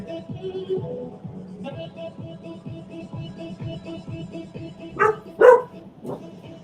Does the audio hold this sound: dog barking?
yes